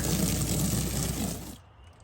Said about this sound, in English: We're rinsing with 8 gallons a minute.